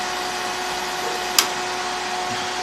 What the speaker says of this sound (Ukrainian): Ви чуєте, вентилятор працює класно